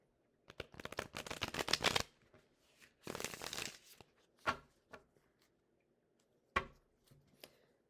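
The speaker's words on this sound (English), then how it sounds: "I can actually shuffle these" Tarot and oracle cards are shuffled by hand in quick riffling bursts, one long flurry and then a shorter one, followed by a few isolated soft card taps and slaps in a quiet room.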